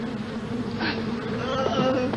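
A dense swarm of bees drones continuously and loudly near a rescue truck, one unbroken buzz that fills the air.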